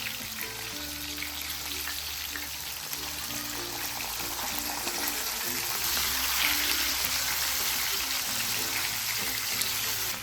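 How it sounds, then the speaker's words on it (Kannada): Bangda (mackerel) coated in rava shallow-fries in a pan over a medium flame, a steady bright crackling sizzle that runs without a break and grows slightly louder toward the end, close by. "ಮೀಡಿಯಂ ಫ್ಲೇಮಲ್ಲಿ ಇಟ್ಕೊಂಡು ಫ್ರೈ ಮಾಡ್ಕೊಳ್ತಾ ಇದ್ದೀನಿ"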